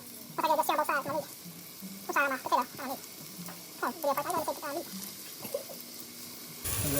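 A seasoned rack of lamb sears in a hot pan, giving a steady, soft sizzle that carries beneath someone talking throughout.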